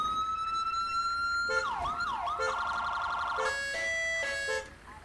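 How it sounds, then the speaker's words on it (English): British police siren cycling through wail, yelp and two-tone patterns on a vehicle in a GTA 5 police mod, loud and steady with no talk, cutting off abruptly near the end. "little bit of a siren demo for each one as well."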